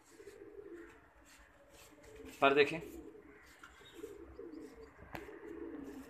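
A pigeon of a peacock-tailed (fantail) breed gives a short burst of cooing over steady background murmur, with a person speaking briefly nearby.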